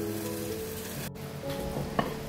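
Omelette egg frying in a pan over a low flame, a steady soft sizzle with a light scrape or stir near the end, fairly quiet with no talking.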